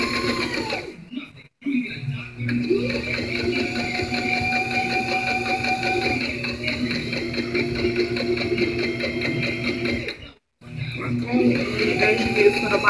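A sewing machine stitches a spaghetti strap dress, a close, loud, steady mechanical whir that pauses briefly twice, with a voice talking over it.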